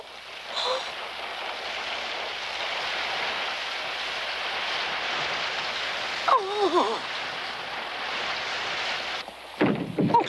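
Steady rain hisses loudly and without a break in a cartoon mountain scene, while a voice calls out briefly and a louder rumble or gust comes near the end; no thunder stands out clearly.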